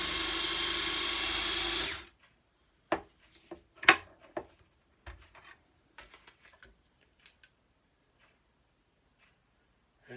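A Hornady Cam Lock trimmer whirs briefly on rifle brass, then stops, followed by a scattering of sharp metallic clicks and taps as the cases are handled.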